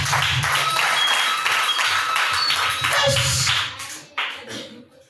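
Church congregation clapping during a sermon, a loud sustained burst of many hands applauding close by that fades out toward the end, with a few scattered late claps.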